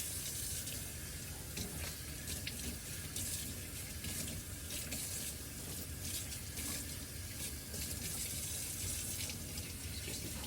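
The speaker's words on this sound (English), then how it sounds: "Just a cold water rinse." Cold tap water runs steadily into a sink, rinsing freshly butchered fallow deer meat, a continuous close splashing stream with faint shifting spatters as the meat moves under the flow.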